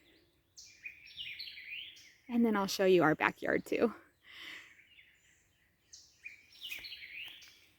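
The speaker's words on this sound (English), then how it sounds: "Oh, I love hearing the birds." Birds chirp and trill outdoors near a paddock in spring, in short, bright phrases before and after a person speaks briefly at a moderate distance.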